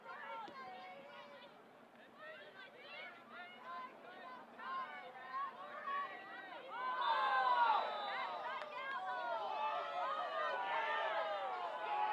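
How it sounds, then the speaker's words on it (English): Women's college soccer crowd, North Central vs Elmhurst, voicing displeasure at a foul call: a steady murmur of spectator voices that swells into louder, sustained jeering and shouting midway, heard from a distance through the stands. "you can hear over our crowd mic the displeasure that is being vocalized by the Blue Jay faithful"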